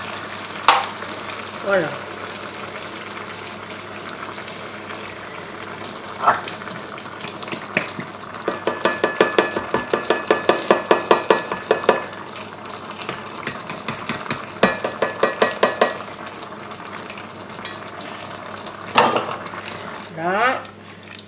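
Chicken curry strips frying in a pan while a utensil stirs them, giving a steady sizzle with bursts of rhythmic scraping and clinks in the middle, a person speaking briefly over the cooking.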